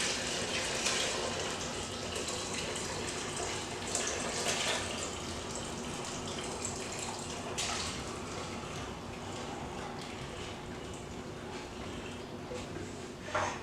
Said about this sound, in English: we're going to go ahead and strain it like we did some of the vegetable stock before. With our perforated pan.